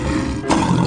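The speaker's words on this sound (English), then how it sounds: "Lion." A lion roars in a 3D animal sliding video game: one short, loud roar that swells midway through, heard alone.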